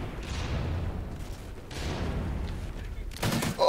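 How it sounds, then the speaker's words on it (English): Light machine gun fire in a first-person shooter video game, sustained rattling bursts with booming shots, loud and continuous with a sharp burst at the end. "he has a light machine gun"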